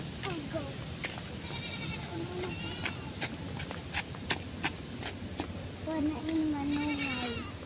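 A goat bleats a few times near the start and again more loudly toward the end, with a voice talking over it and sharp clicks and knocks scattered across an outdoor background.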